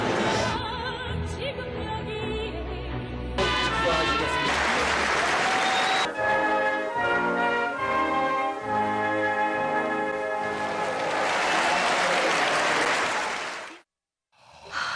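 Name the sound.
studio audience applause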